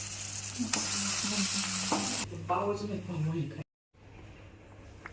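Pav bhaji masala sizzles loudly in a pan as it is stirred, with a voice talking over part of it; the frying then drops away, followed by a brief silence and a quieter tail.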